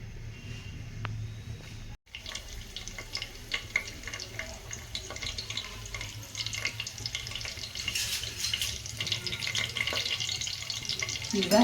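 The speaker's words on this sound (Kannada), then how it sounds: "ಈಗ ಎಣ್ಣೆ ಕಾದತ್ತಲ್ಲ, ಕರಿಬೇವನ್ನು ಹಾಕಿದ್ದೀನಿ." Curry leaves sizzle in hot cooking oil while pasta is made in a pressure cooker, a steady close crackle that briefly cuts out and then builds slightly louder, with no talking.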